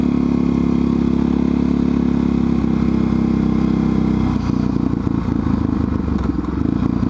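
A Honda XR650R motorcycle engine idles steadily with a deep, throbbing rumble, then its tone shifts to a rougher, sputtering run partway through.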